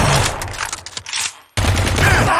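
Gunfire rattles in the shooter game Blue Estate as a dense, loud fusillade. It breaks off briefly, then resumes just as heavily.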